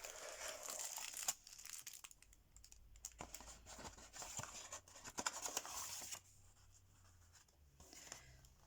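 A cardboard box for a heart-decoration sewing kit opened by hand, faint and close: soft scraping, crinkling and sharp little ticks as flaps and packing shift, with no talking.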